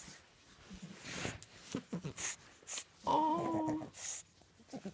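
A young puppy, about eleven weeks old, gives soft high whimpers and whines up close indoors, in short uneven bursts with a brief sustained whine midway, over quiet room noise and light breathing.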